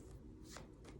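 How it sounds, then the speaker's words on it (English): Tarot cards being shuffled by hand, two quick soft riffling bursts, close and quiet, with no talking. "So while I do this shuffling"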